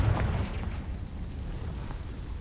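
A Confringo explosion spell goes off in the Hogwarts Legacy video game, a loud low-heavy blast with a short burst at the start that rolls into a sustained rumbling tail.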